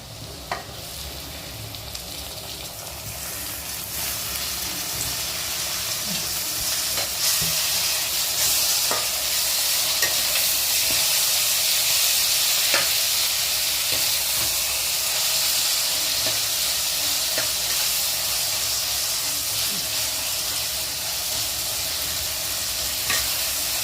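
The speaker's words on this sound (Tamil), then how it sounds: "தக்காளி போட்டு நல்லா வதங்கணும்" Tomatoes and browned onions sauté in a pan for prawn masala, a loud, steady sizzling hiss with occasional faint stirring clicks throughout.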